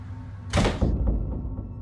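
Two doors swing open at once in a quiet house, a single sudden thunk and rush of movement followed by a fading rattle, then near silence.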